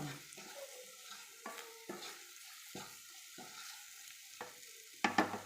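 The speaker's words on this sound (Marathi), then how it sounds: "लाल तिखट घरगुती मसाला लाल तिखट टाकायचं चांगलं परतून घ्यायचं म्हणजे एकसारखं परतून घ्यायचं" Chole masala and homemade red chilli powder being sautéed in a pan, with a series of soft scraping stirs over a faint sizzle, each stroke distinct, and a louder clatter near the end.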